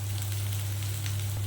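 Moong dal sizzling and frying in a hot pan over high heat for semolina khichdi, a steady, close crackle with a low constant hum beneath and no voices.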